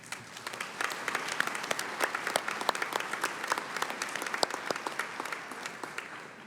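Sustained applause from a university commencement audience, a dense wash of many hands clapping evenly throughout at moderate distance, with no voices standing out.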